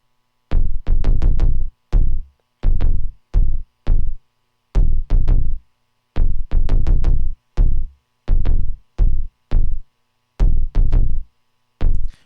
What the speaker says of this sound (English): For the bass, I have this 808.